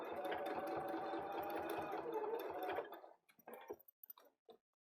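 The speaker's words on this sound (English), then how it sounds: "and keep on sewing" A sewing machine stitches a bag in a fast, steady mechanical whir for about three seconds, then stops, followed by a few quieter handling clicks and shuffles.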